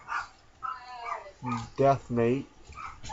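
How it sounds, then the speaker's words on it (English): Dogs bark and yip indoors in several short, sharp bursts near the middle, close and fairly loud, while someone talks before and after them. "Sorry about my dogs barking."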